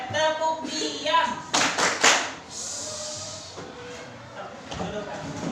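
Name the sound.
class doing the "tepuk diam" clapping routine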